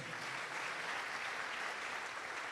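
Audience applause at the MTNPULSE Transform Summit 2022, a steady, even wash of clapping from a seated crowd that holds level throughout without pause.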